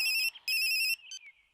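A mobile phone ringtone in a comedy film scene plays as loud, bright electronic tones in two bursts, followed by a short fainter chirp as it cuts off, with no voices.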